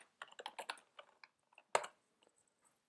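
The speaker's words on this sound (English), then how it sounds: "now if I type movie.name" Quick rhythmic keystrokes on a computer keyboard, a close flurry of clicks followed by a few scattered taps and one sharper key press, quiet and alone.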